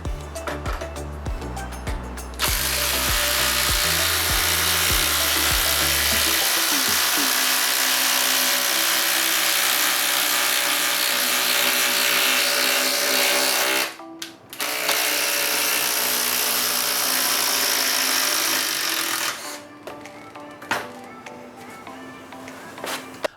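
A Makita or Metabo HPT subcompact impact driver sinks a 3/8 by 6-inch lag screw in a long stretch of loud, rapid hammering clatter, with brief pauses and a break near the end, heard up close.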